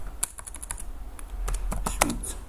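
Rapid typing on a computer keyboard, a close, steady run of crisp key clicks with a few louder taps near the end.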